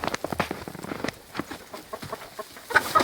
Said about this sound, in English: If you can hear, the chickens think that I'm trying to hurt them or something.